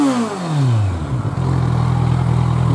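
A stock Kawasaki Z1000 motorcycle engine with double exhaust, revving up and dropping back before settling into a steady, close idle rumble.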